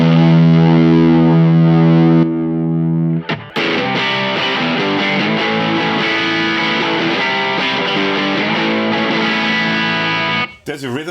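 Distorted electric guitar through a Bogner Shiva amp, a held chord ringing out alone, then a short break before a thick, saturated rhythm passage plays on loudly and steadily to the end.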